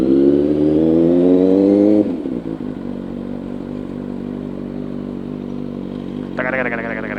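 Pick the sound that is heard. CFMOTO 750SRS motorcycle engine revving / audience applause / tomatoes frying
CFMOTO 750SRS motorcycle engine revving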